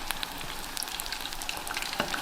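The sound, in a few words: chicken pieces deep frying in oil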